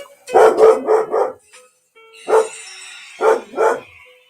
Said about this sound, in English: Somebody pulled up in the driveway and the dogs are barking.